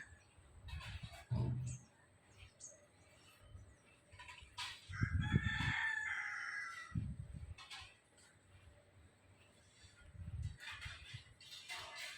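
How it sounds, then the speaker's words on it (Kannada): A rooster crows loudly midway, with scattered clucks and other fowl calls around it over a low background rumble. "ವೆರೈಟಿ ವೆರೈಟಿ ಪಕ್ಷಿಗಳನ್ನು ಕೂಡ ಇಲ್ಲಿ"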